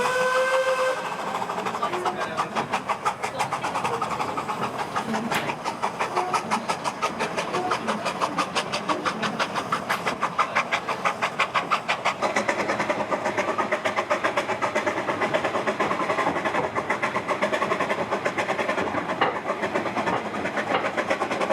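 Steam locomotive hauling a train on the Welsh Highland Railway in rain and low cloud, loud rhythmic exhaust beats and rail clatter continuing steadily, with a whistle sounding near the start.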